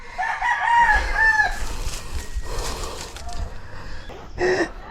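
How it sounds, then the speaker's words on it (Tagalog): Fighting cocks crow repeatedly at close range at a rural backyard in Mendez, with several overlapping calls and clucking under people talking nearby. "Sa mga mahilig po mag-alaga ng manok na pansabong, baka gusto niyong bumili."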